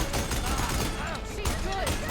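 Rapid gunfire in the video game Horizon Forbidden West, dense bursts of shots packed close together over a continuous game soundscape with voices mixed in.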